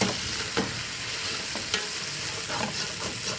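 Fresh mint and coriander leaves stir-fried in a hot pan for prawn biryani, a steady close sizzle broken by a few scraping stirs, with no talking.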